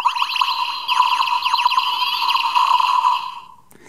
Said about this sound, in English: Uses that same sort of twirly sound that these toys keep using